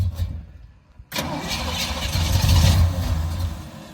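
Car engine with a faulty carburetor cranks briefly, pauses, then catches and runs rough and loud, rising in revs before settling, in a cold winter garage.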